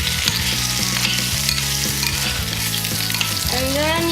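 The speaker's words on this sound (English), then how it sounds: "And then we let that toast in the oil" Spicy seasoning toasting in hot oil for a Korean seafood tofu soup, a loud, close, continuous sizzle with steady frying crackle and rhythmic stirring scrapes throughout.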